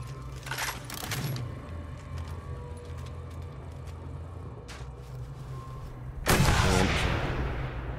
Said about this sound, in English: One hell of a fucking sniper rifle.